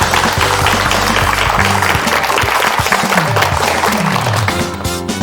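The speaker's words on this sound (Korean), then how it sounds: "큰 박수로 부탁드리겠습니다" Loud, sustained applause from a TV studio audience fills the clip, with music playing underneath and fading slightly at the end.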